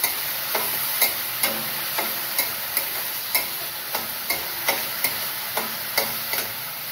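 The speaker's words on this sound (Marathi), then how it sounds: "ही मुगाची डाळ पण थोडीशी तेलावरती परतून घ्यायची" Moong dal sautéed in oil in a pan, a steady bright sizzle punctuated by regular spoon clinks as it is stirred, close and loud, about one stir each half second.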